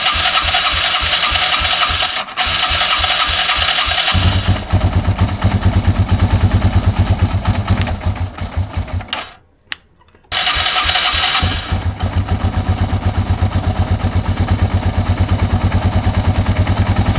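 A Yamaha TW200 motorcycle engine idles steadily up close, running lean with a fast even putter and light metallic clatter, briefly dipping almost to silence near the middle before picking back up.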